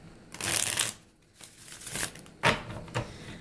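Tarot cards are shuffled in quick riffling bursts, several crisp flurries separated by short pauses, close up with no talking.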